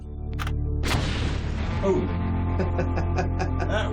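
A grenade detonated outdoors for a test explosion, one loud booming blast followed by a long rumbling roar and scattered crackling debris.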